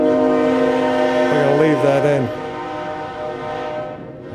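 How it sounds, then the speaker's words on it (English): A train passes very close in Marietta, its horn blaring loud and sustained with a pitch bend before fading into rumbling rail noise, while a person speaks briefly near the end. "Here comes the train."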